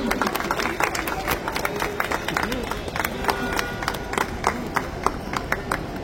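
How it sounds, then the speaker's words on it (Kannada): An audience claps at a Navaratri festival concert, with dense, uneven hand claps rising and falling while voices murmur underneath. "ಯಾರ್ಯಾರು ವಿಡಿಯೋ ಮಾಡ್ತಿಲ್ಲ ಅವರೆಲ್ಲ ಚಪ್ಪಾಳೆ ಹೊಡಿಬಹುದು"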